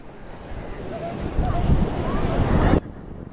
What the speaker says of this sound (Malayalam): അപ്പോഴാണ് കടലിൻ്റെ ശബ്ദം കണ്ടോ.